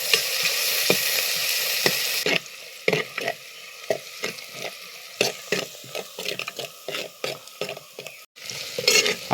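Shallots, green chilies, bird's eye chilies and garlic fry in hot coconut oil: a loud steady sizzle at first, then a run of crisp spatula scrapes and taps against the pan over continued frying, close up with no speech.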